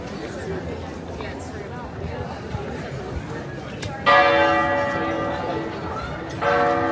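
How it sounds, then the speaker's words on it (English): Church bells ring out in Dubrovnik's old town, a loud peal starting suddenly over a murmur of crowd chatter and rain-soaked street ambience, swelling again near the end. "Love when the church bells go off."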